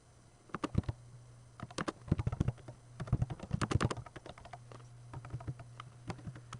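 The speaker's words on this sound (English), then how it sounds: "I can do whatever typing I want to do." Rapid clattering keystrokes on a computer keyboard come in uneven bursts, close up over a low steady hum, with no talking.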